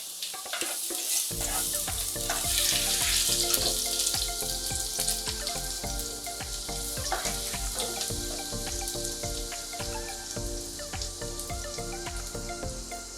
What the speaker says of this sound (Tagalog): Pag mainit na itong ating mantika,